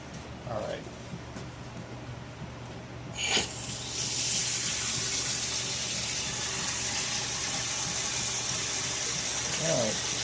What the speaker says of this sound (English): I'm gonna start filling just so you can see the flow